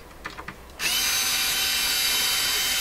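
Power drill whirring steadily as it backs a sheet-metal screw out of a Sanyo GXT4505K combo record player cabinet, starting abruptly after a few light handling taps and running loud and close for about two seconds.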